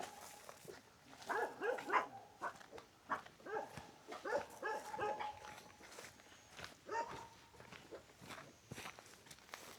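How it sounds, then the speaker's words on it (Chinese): Puppies in a bamboo shed on a remote Chinese mountaintop farm yap and whimper in short, high bursts, close by, mixed with footsteps and rustling movement at low volume. "這裡有好多小狗子。"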